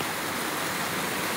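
A loud waterfall in a rocky forest near Kristiansand, Norway, roars as a dense, steady rush of falling water close by, with no voices.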